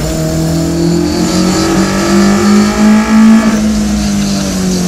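A Toyota AE86 Trueno with a 4A-GE engine and individual throttle bodies climbing a mountain road, its loud, close engine note rising and falling through revs with a raspy intake howl, no talking.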